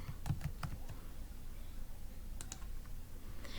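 Login ID tapped out on a computer keyboard, a short burst of close, crisp key clicks at the start, a few more taps near the end, over a quiet room hum.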